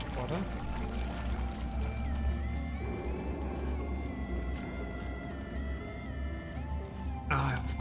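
Water pouring in the video game Portal Stories: Mel makes a constant rushing flow under droning ambient tones, with a person talking over it and a brief louder splash near the end.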